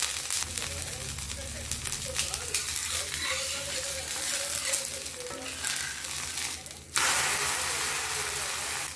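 A soya chunk (meal maker) dosa cooks on a hot pan after being flipped. It sizzles and fries steadily and evenly up close, with a brief clatter near the end.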